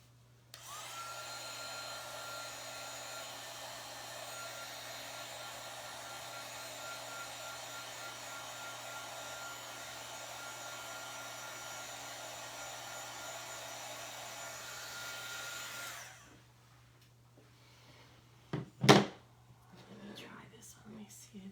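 A heat gun blows a steady, loud whooshing roar over freshly painted chunky wooden heart craft pieces for about fifteen seconds, then shuts off, leaving a few sharp clicks and small handling knocks.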